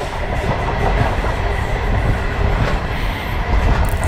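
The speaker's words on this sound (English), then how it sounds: "iconic Australian interstate passenger train." A long Australian interstate passenger train rumbles steadily past at close range near Adelaide, with a continuous low roar and faint clattering of wheels over rail joints.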